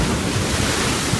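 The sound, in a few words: ocean waves coming in from the sea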